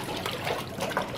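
Garden hose water pouring steadily into a backyard pool at a Norfolk Terrier's pool time, a continuous splashing trickle heard fairly close and alone.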